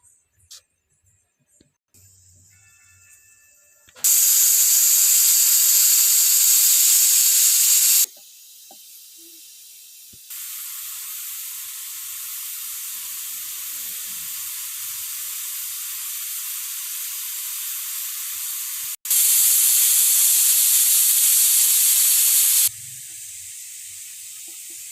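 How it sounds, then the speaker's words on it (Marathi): Pressure cooker cooking khichdi whistles in loud, sustained bursts of hissing steam, one around four to eight seconds and another near nineteen to twenty-three, with a steady softer steam hiss running between them. "आता ह्या कुकरच्या 3 शिट्या झालेल्या आहेत."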